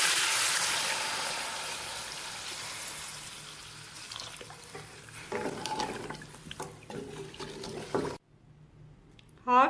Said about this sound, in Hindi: 5 से 6 गिलास पानी शामिल करेंगे।